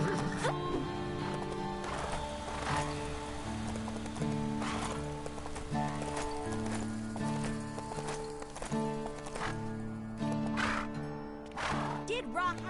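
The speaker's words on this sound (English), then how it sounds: "Soon as you find a horse, just saddle up and ride it on back here to me." Hoofbeats of a horse in the Lego Marvel Superheroes 2 Old West area clop steadily, with an occasional neigh, under constant game music and ambient effects.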